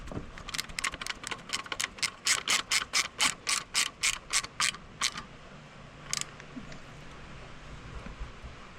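Rapid ratchet clicks tightening the wire terminals on a new alternator, about twenty close, loud strokes in a steady burst followed by a single late click, with no talk over it.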